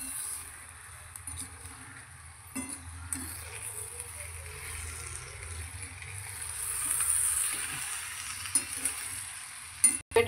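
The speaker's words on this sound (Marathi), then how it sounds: "आणि कांदे आतपर्यंत शिजले जातात." Small onions cook in a pan with crushed peanuts and tomatoes, giving a low, quiet sizzle throughout, with occasional faint stirring taps and a couple of sharper clicks near the end.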